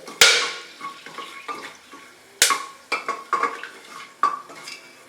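Whole cardamom, cloves and cinnamon tossed in a pan, with sharp metallic clanks of a spoon against the pan and several lighter scraping stirs between them, close and clear, with only a faint sizzle beneath.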